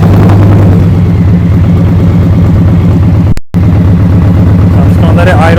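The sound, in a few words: 2023 Indian Pursuit Elite motorcycle idling with Tab Performance exhaust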